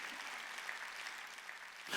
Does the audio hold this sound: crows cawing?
no